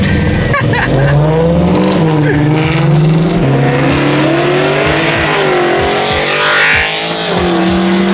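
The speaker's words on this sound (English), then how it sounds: "Oh my god, the E92 sounds crazy." A loud BMW E92 M3 engine revs hard and climbs in pitch, dropping and surging again, with a harsh raspy exhaust note and a brief tire squeal.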